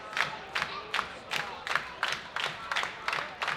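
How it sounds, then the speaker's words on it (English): Wrestling crowd at a women's match claps in a steady rhythmic beat, about ten evenly spaced bursts, with cheering mixed in throughout. "Crowd getting into it, clapping for Charity King."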